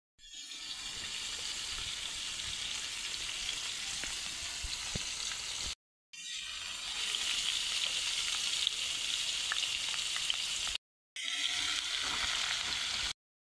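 Onions frying in a pan for a fish and potato curry, a steady close crackling sizzle that runs in three stretches split by short silent cuts, with no talking.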